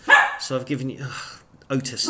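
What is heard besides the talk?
puppy barking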